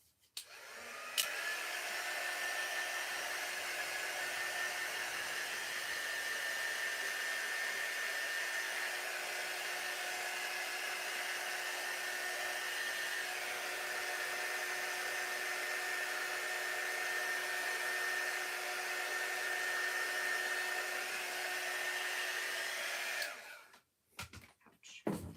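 A handheld dryer blows on wet paint on a wooden sign, a loud, steady whirring roar that runs unbroken for over twenty seconds before switching off.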